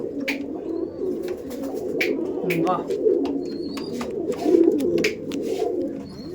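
Ablak pigeons kept for sale coo steadily up close in a low, continuous murmur, with a few sharp clicks and rustles scattered over the top.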